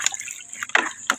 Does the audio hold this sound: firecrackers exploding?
no